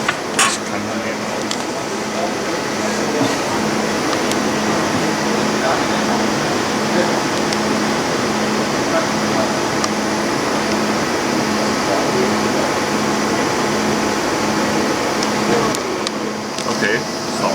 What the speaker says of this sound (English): the printer is now adjusting manually the ink zone screws to the knife